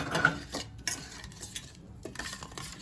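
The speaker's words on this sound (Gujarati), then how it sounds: "હવે આપણે મસાલામાં એડ કરી દઈશું અને મિક્સ કરી દઈશું।" Spices are mixed in a bowl with warmed oil for red chilli pickle, a spoon clinking and scraping against the bowl in a few quick, irregular strokes, close and quiet.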